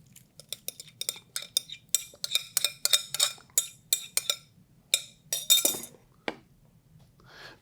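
Utensils clink against a bowl while wet and dry hushpuppy batter ingredients are combined, a quick run of bright scraping taps and knocks that slows toward the end.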